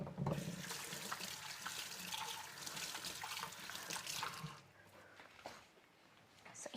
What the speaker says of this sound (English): Just wash my hand for a while.